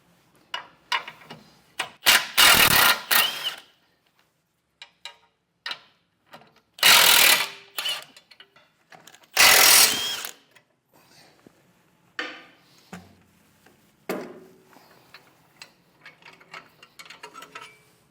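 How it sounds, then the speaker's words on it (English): A hand ratchet fitted with an 18mm socket works frame-rail nuts loose on a 2022 Ford, giving a few loud bursts of rapid clicking separated by quieter scattered ticks and pauses, close and without talk. "Now with an 18mm socket, we need to remove this guy on each side."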